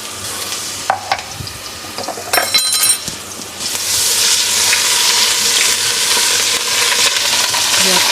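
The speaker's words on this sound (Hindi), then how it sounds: "ये देखिए, मैंने इसमें 1 टेबलस्पून के करीब लहसुन अदरक का पेस्ट डाल दिया।" About a tablespoon of garlic ginger paste frying in ghee and being stirred in a pan, with a few utensil clinks early on, then a steady close sizzle that fills the rest of the clip.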